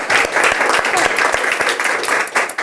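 A live studio audience claps steadily and loudly at a Virgin Radio Pride panel event, dense clapping with a murmur of voices mixed in throughout.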